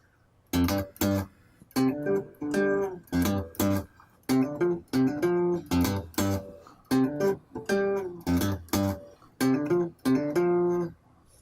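Guitar plays a riff in G, the slower album version, with steady rhythmic phrases of bright picked notes and brief gaps between them, close and unaccompanied.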